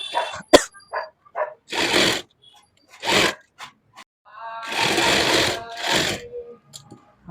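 A sewing machine stitches a suit neckline in several short, uneven bursts, close and moderately loud, separated by brief pauses.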